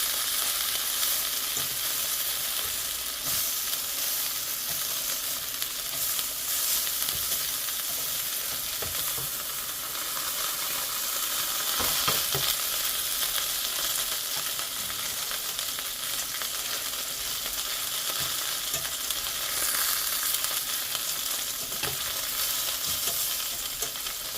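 Chicken thighs fry in oil in a pan with a steady, dense sizzle and crackle that runs unbroken throughout, with occasional faint clinks.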